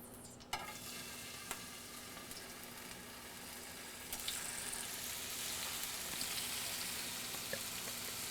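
Tofu laid into a hot olive-oiled pan on medium-high heat, setting off a steady close crackling sizzle that swells a little midway, with a few small clicks and no talking.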